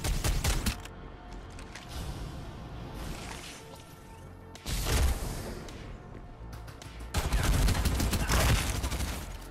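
Gunfire in a multiplayer shooter video game comes as dense bursts of rapid automatic shots, stopping and restarting in loud clusters with quieter gaps between volleys, with no talking.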